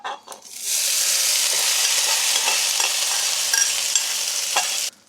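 Hash browns hit a hot cast iron skillet and break into a loud, steady sizzle that holds for several seconds before cutting off, with no talking.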